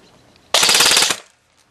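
A Code-8 PTW airsoft gun fires a rapid automatic burst of roughly a dozen shots, loud and close, lasting about half a second before it stops into quiet.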